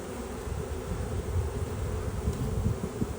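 Carniolan hybrid honeybees, a darker Alpine bee, swarming in a steady low buzzing hum that holds close and fairly loud throughout, swelling slightly in the middle with no voices.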